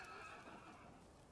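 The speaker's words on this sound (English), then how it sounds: "I've obtained the chestnut horse." A horse neighs in the video game Rise of Ronin, a soft, faint whinny over a steady low hiss of game ambience, with no talking.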